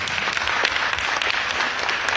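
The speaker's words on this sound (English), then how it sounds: "Let's give them all a big round of applause." Audience applause at a live Wake County sheriff candidates' forum, a dense, steady wash of many hands clapping, fairly loud and sustained throughout with no talk over it.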